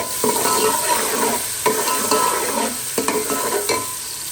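Steady sizzling and crackling of onion and ginger frying in hot ghee, with a few scraping stirs of a spoon in the pan; no voices.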